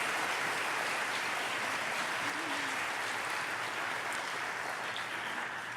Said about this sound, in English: How about a round of applause for these outstanding men and women?